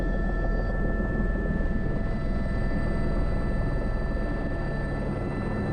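A helicopter makes slow, low-speed turns in moderate wind, giving a loud, steady, close rotor drone and engine hum that continues without a break and with no voices.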